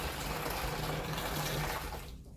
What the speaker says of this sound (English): let's get half of the boiling water, which just came out of the boil.